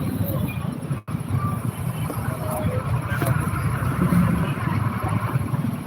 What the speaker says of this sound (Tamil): அதனால் ரொம்ப வண்டி சத்தம் தான் அதிகமாக கேட்கும்.